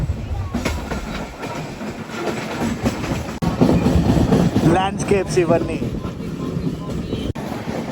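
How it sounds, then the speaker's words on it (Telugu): Passenger train on the Visakhapatnam to Araku line rumbling steadily through monsoon hill country, with a continuous loud rolling roar and faint wheel clatter while a person talks over it. "ఈ Visakhapatnam to Araku train journey"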